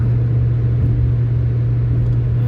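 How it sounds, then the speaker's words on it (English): Steady low roar of wind and road noise inside a moving car, constant throughout with no voices. "Aware of all the wind noise at the moment"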